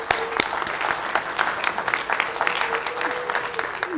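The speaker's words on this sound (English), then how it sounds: "I want to give you guys and gals a round of applause" Cinema audience at a horror-movie marathon breaking into dense, sustained applause, a continuous wash of many hands clapping with a few faint voices mixed in.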